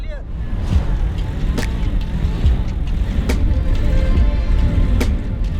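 A car engine strains and revs loudly while stuck in soft sand in the Tunisian Sahara, a steady rumbling drone with a few sharp clanks and scrapes on top.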